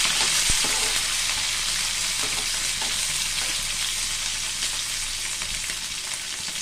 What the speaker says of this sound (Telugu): చిన్న ఉల్లిపాయ కూడా మంచిగా వేగనివ్వండి.